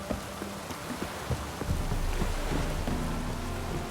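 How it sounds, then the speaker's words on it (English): Steady rain in the video game The Witcher 3: Wild Hunt patters across a surface, with scattered drips and soft splashes over a constant hiss, growing slightly louder partway through. "Looks like Rain."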